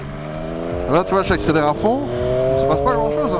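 A Triumph Triple RS motorcycle accelerates at full throttle, its engine tone climbing and holding steady and close while someone talks over it.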